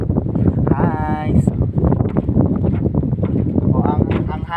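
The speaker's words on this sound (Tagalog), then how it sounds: "O, ang hangin dito guys. Sobra, o." Strong wind buffets the microphone in a steady, loud roar throughout, with a person talking over it.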